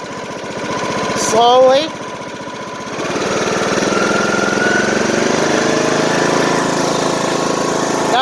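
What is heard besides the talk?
lawn mower engine revved at low RPM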